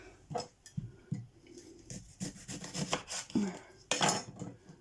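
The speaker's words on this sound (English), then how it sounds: "So what I do, I chop the bad bit off." A knife chops through a spoiled onion on a board, the blade knocking down in a string of sharp, close taps and scrapes at uneven intervals.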